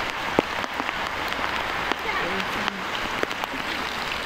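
Steady typhoon rain pours down outdoors in a dense, even hiss, broken by a few sharp taps and knocks. Faint voices carry underneath it.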